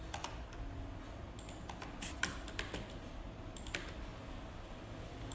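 A computer keyboard is typed on to delete text in Microsoft Word. The key clicks are faint and scattered over a quiet background hiss.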